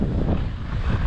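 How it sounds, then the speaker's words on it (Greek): Strong wind roars steadily across the Stubai Glacier in Austria, buffeting the microphone with a loud, continuous low rumble and no voices. "φυσάει πολύ, αλλά το μέρος είναι φανταστικό"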